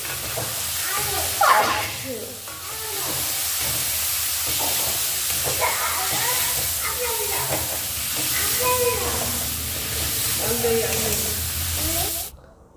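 Chicken for kadhai chicken sizzles in oil in a pan, a steady close frying hiss with occasional stirring, under a voice talking throughout.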